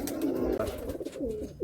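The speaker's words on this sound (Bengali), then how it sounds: "কাকার প্রায় অনেক পায়রা হয়ে গেছে পুরনো জেনারেশনে" Pigeons coo softly in a Giribaz and Madrasi pigeon loft, a brief run of low, throaty rolling coos close by with no talk.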